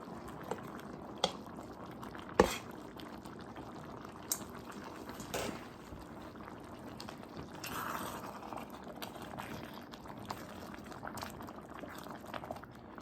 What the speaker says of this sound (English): we'll just go ahead and dump them in